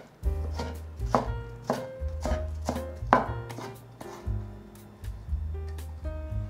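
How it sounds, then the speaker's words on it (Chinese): A knife chops thin cucumber slices into fine shreds on a cutting board, giving sharp, close, regular knocks in quick bursts with brief pauses between runs. "把小黄瓜片排整齐，切成细丝"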